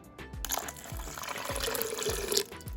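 Water pours steadily from a tap into a large mixing bowl for sourdough bagel dough that already holds maple syrup, a continuous close splashing and trickling stream with a few soft knocks underneath.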